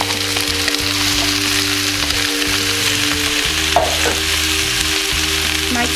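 Potatoes, sweet potato, turnip, swede and leeks fry in a pot for a chunky minestrone, giving a steady crackling sizzle with occasional stirring clatter, close and continuous with no talk.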